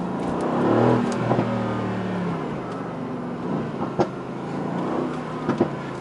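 Twin-turbo V8 of a 2018 Mercedes-AMG GT C revving on a test drive, a steady nearby engine drone with a few short throttle blips and pops.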